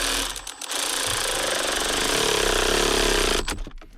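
A power drill on low speed runs a steady buzzing whir for about three seconds while tightening the battery bolts on a Ford Transit Custom, starting and stopping with brief clicks and no talk.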